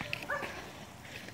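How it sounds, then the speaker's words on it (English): A dog barks back a few times at close range, short sharp yaps and a whimpering note in quick succession, fairly quiet against outdoor background. "as we're getting barked back"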